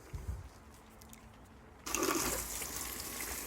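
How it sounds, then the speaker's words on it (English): Water poured from a container into dry soil around tomato plants, a steady close splashing gush that starts suddenly and keeps going without talk. "I'm going to get the water into the soil, because it's dry"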